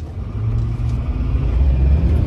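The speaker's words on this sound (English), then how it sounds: "this is all the way to the floor from a dead stop" A Duramax diesel pickup truck with fuel delivery problems accelerates at full throttle from a dead stop, its engine producing a loud, deep, steady rumble heard from inside the cab, with no talking.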